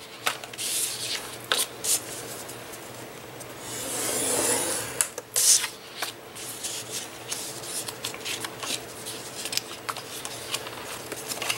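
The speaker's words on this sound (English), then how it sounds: "we're going to score those in the middle at 1 inch." Strips of cereal box cardboard being scored with a tool, giving short scraping and rubbing strokes with a longer drawn-out rasp in the middle, close and fairly soft, with no voices.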